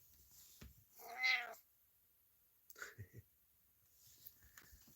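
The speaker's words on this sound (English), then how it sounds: "That's the cat." A domestic black cat, one of two adopted sisters, gives a single clear meow up close in a quiet home office, followed a moment later by softer, shorter chirping vocal sounds.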